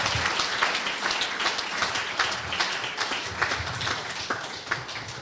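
A fan-forum audience in a working men's club applauds Terry Curran, a brisk crackle of many hands clapping that stays fairly even for several seconds, with no speech over it.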